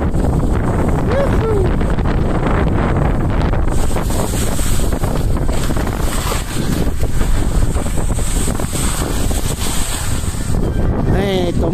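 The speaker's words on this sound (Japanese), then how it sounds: "風が強い。" Strong wind roars over the microphone on a ski slope, loud, continuous and buffeting, with faint voices underneath.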